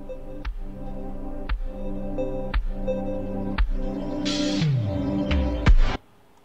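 Audio slowed to half speed in Lightworks Pro, low-pitched with heavy, evenly spaced thuds about once a second, a smeared downward sweep near the end, then an abrupt cutoff.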